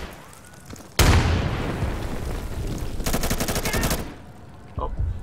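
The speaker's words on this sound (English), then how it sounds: "Throwing grenade!" Explosions and gunfire in a competitive shooter match: a sudden loud blast with a long decaying rumble, then a rapid burst of fire, and another short pop near the end, under a caster's excited voice.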